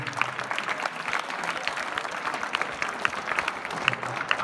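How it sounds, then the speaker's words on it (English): A school audience at a mock parliament claps for student performers, a moderate, even patter of many hands with scattered crisper claps, continuing steadily throughout without a break. "We should compulsory clap to them now."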